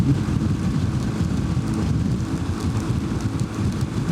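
Steady, loud rush of wind and rain in a storm near the Arctic Circle, a dense low roar with constant pattering, no pauses throughout.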